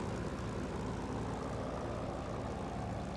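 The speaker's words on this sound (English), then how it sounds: "That whirring sound you hear is the inertial coupler coming onto the left engine." Steady whirring drone of an inertial starter spooling up on an aircraft's left engine in a flight simulator game, a dense continuous rumble with no speech.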